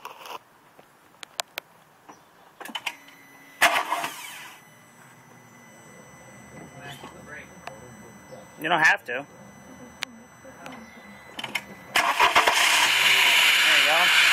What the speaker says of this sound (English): Start the car now.